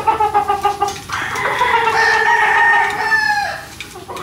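Hens and a straight-comb SBR broodcock kept for breeding cluck in a run, and a rooster's loud, drawn-out crow fills most of the few seconds after a burst of rhythmic clucking.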